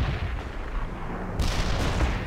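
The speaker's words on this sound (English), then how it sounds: "Medium artillery here." Medium artillery barrage in the strategy game World in Conflict, a steady rumbling roll of distant heavy shelling with a sharper burst of impacts partway through, no voices.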